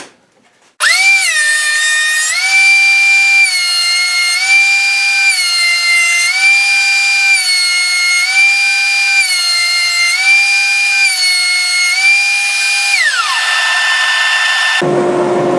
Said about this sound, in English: once you have a thickness planer, you have to have dust collection. This thing puts out an incredible amount of sawdust.